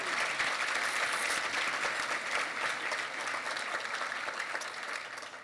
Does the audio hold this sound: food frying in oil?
no